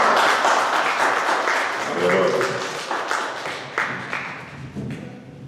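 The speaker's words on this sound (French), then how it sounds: "On acclame Jésus plus fort." A church congregation applauding and acclaiming Jesus fills the room with continuous clapping and cheering, while a loud voice speaks over the crowd.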